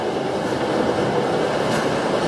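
Kumba, a sit-down B&M roller coaster train, rumbles and roars steadily throughout, a dense continuous rolling din with no voices.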